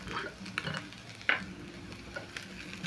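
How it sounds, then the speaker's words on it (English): French fries warming in a pan for chips mayai, with a faint sizzle and a few clinks and scrapes of a stirring utensil, close but quiet, with no talking. "Cook the fries for around a minute"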